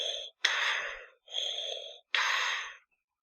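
Darth Vader's mechanical respirator breathing, three hissing breaths, each drawn in and pushed out, with short silent gaps between them and nothing else.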